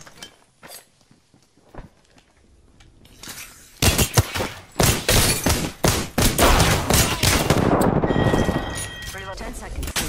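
Rapid video game gunfire erupts in dense bursts of shots, near and loud, after a quieter stretch of scattered pops, with brief voice chatter mixed in.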